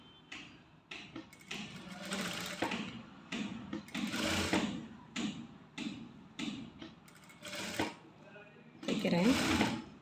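Sewing machine stitching a maxi top, running in repeated short bursts of mechanical whirring and clatter with brief pauses between runs, heard up close while someone speaks over it.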